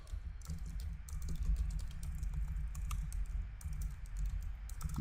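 Rapid keystrokes clatter on a computer keyboard in quick bursts with short pauses, close and fairly loud against a low hum.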